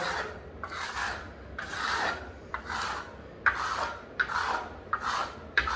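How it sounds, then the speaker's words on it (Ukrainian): A clean Venetian plaster trowel is pressed across decorative plaster in different directions to build an asphalt-like texture in a TV niche, making about eight rhythmic rasping strokes up close with brief gaps between them. "беремо чисту кільму венеціанську. І в різні сторони проминаємо матеріал."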